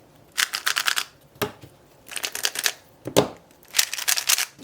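Rapid, light clicking and clacking of a fast, light 3x3 speed cube being turned, higher pitched than other cubes, in four quick bursts separated by short pauses, close and crisp.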